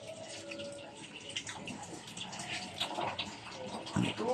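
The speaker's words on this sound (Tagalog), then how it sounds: "Tubig." Water runs and splashes steadily at a sliding gate and canopy construction site as concrete pouring is about to begin, with a few brief voices under the noise.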